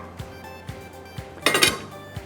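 A metal tawa griddle is set down under a cooking pot on a stove: a few soft knocks and then one brief, brighter metallic clatter, close by.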